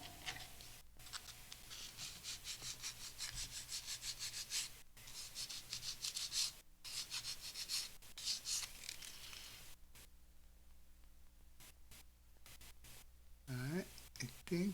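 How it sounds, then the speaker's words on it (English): Sanding a plastic body part of a US Navy E-2C model airplane kit by hand: steady, close, rhythmic scratchy rubbing strokes that go on for several seconds, then pause, then resume in short bursts. "Still got to do a little sanding"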